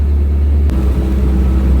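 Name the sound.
1937 Morgan F2 classic car engine on the road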